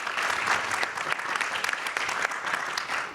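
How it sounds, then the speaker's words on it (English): Audience applause at a public policy and technology panel discussion, a dense burst of clapping from a seated crowd with individual sharp claps standing out, fairly close and continuous for a few seconds. "Let's give him a round of applause."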